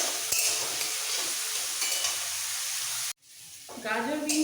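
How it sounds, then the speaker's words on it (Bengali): Turmeric fried and stirred in a pan with meat for poha: a steady, close sizzle with scraping stirs runs for about three seconds, breaks off abruptly, then resumes more quietly with brighter crackling. "একটু হলুদ দিব এবার এই খুব ভালো করে ভেজে নেবো যাতে কাঁচা না থাকে"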